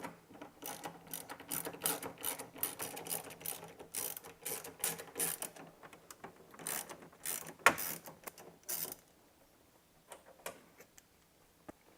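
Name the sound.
ratchet removing 10mm bolts from a Miata shifter boot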